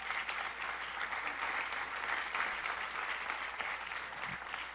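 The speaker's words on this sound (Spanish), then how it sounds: "Dele un fuerte aplauso al Señor." Steady, fairly faint applause from a church congregation praising the Lord, an even wash of clapping that carries through without pause.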